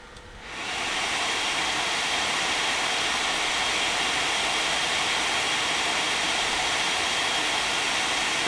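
Fans of an Accelero Extreme Plus 2 graphics card cooler on an AMD 6870 ramp up to 75% speed, swelling within a second into a loud, steady, jet-like roaring whoosh that holds constant.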